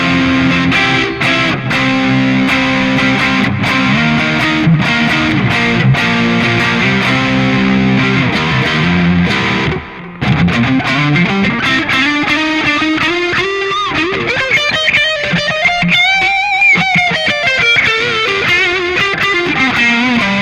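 A Gibson Les Paul with Bucker Pro II pickups played through a 1968 Fender Custom Deluxe Reverb with a booster, echo and a golden Plexi distortion pedal, giving loud, sustained distorted chords and then bending lead lines after a brief break.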